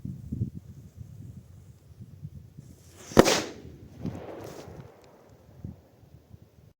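A single sharp La Bomba firecracker blast cracks out, followed by a brief crackling rumble, amid light outdoor wind noise.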